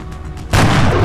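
Headshot fired in XCOM: Enemy Unknown: a single loud, sudden gunshot boom with a broad blast that sustains briefly after a quiet lead-in.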